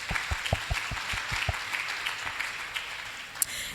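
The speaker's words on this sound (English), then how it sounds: "let's welcome our panelists for the day with a round of applause" Audience applause welcoming panelists at a live university talk event, a burst of claps with some distinct near hand claps early on, thinning out toward the end.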